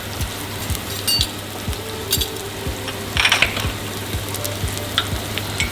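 Curry powder fries in hot oil for a Malaysian chicken curry, a steady close sizzle with rhythmic scraping stir strokes and occasional clinks, with no talking.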